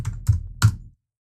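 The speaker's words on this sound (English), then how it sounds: "So just type in Heroku login." Three dull keystrokes on a computer keyboard, spaced irregularly and close by, then silence.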